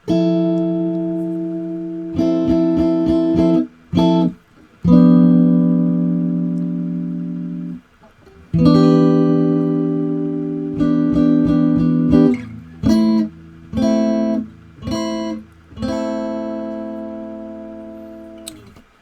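An electric-style guitar picks an intro slowly, sustained chords ringing out in phrases separated by short gaps, followed by choppier plucked notes and muted stops toward the end; no voice over it.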